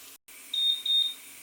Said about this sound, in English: So that's the timer.